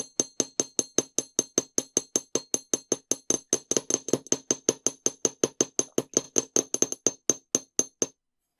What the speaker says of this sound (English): And then we'll hammer those ends in the same way as we did with the first wire.